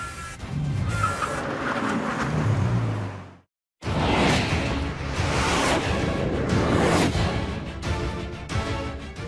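Bugatti Chiron with its 1500-horsepower W16 engine driving past, loud rushing engine roar and whooshing passes, broken by an abrupt moment of silence before the roar resumes, close and alone without talk.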